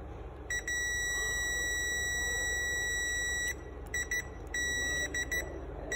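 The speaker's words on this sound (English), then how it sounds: "So there is a long beep." A Fluke 87 V digital multimeter tests a small cartridge fuse from an AC power cord plug, giving one long, steady, high-pitched continuity beep, followed by a few shorter broken beeps, loud and close in a quiet room.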